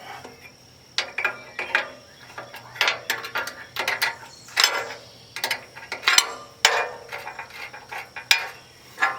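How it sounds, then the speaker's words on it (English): A wrench loosening a bolt on a TV antenna tower makes quick, close metallic ratcheting clicks in uneven bursts, with a faint steady hum behind and no speech. "So what we could do is we unloosen this bolt."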